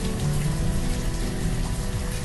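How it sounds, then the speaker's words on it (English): Steady rain falling in the village-building game Banished, a dense, even hiss of drops on surfaces that carries on unbroken at moderate volume, with no talk. "Why does it always rain in games that I play?"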